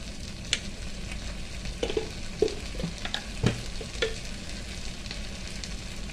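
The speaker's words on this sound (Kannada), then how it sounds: "ಜೀರಿಗೆ ಪೌಡರು 1 ಟೀ ಸ್ಪೂನು ಹಾಕ್ಕೊಂಡು ಸ್ವಲ್ಪ ಫ್ರೈ ಮಾಡುವ." Kashmiri chilli, coriander and cumin powders fry in a pan for stuffed brinjal curry, a steady close sizzle punctuated by repeated spoon scrapes and taps as it is stirred.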